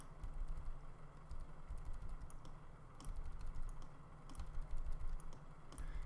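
Computer keyboard keys tapped during 3D tracking and mesh deformation work in SynthEyes software, a scattering of light clicks over a steady low hum, with no one talking.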